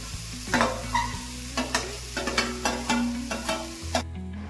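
Red pumpkin pieces frying in ghee while being stirred, giving a close, bubbling sizzle with a series of sharp spoon scrapes and taps against the pan, ending abruptly.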